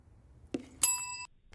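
A handheld bell struck once in a quiet room during a reaction-time test with a dropped ball, ringing with a bright sustained tone that cuts off abruptly after about half a second, preceded by a soft thump.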